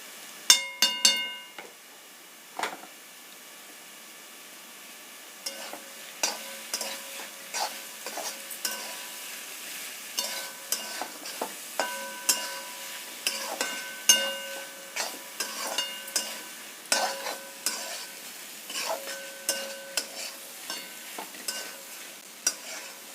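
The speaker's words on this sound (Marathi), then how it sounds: "आता मी सगळं मिक्स करून घेते तर मित्रांनो इथं आता मी एक चमच थोडंसं बटरसुद्धा ॲड करते" A spoon stirs chicken keema samosa filling with butter in a pan, producing repeated close scrapes and bright metallic clinks in an uneven rhythm over a faint sizzle, with no voices.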